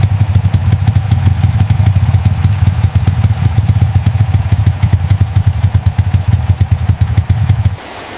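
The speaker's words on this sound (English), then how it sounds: "Everyone is focused on the motorcycle's slightly rough sound." An old Yamaha motorcycle engine runs close and loud with a fast, slightly uneven thumping beat, then cuts out near the end.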